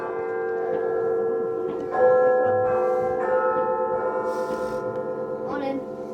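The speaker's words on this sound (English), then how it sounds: "it strikes midnight, it chimes" Bells chiming at midnight on a Christmas-season night, a sustained ringing with overlapping resonant tones that swell and decay, with voices talking faintly underneath.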